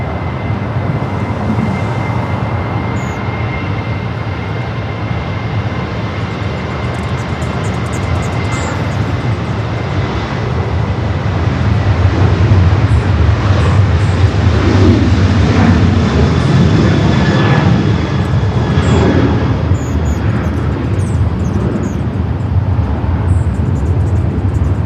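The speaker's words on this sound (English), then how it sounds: "Next departure is a flight to SFO, Delta flight 2267, a 737 at 900 ER, now rolling down at 24 left." A Delta Boeing 737-900ER jet accelerating down runway 24 left at LAX for takeoff, a loud sustained engine roar that swells partway through and stays steady, heard from a short distance with no talk.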